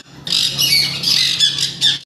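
A black-capped lory kept in a nesting box on a fancy bird farm gives a loud, harsh squawk lasting about two seconds, close and alone.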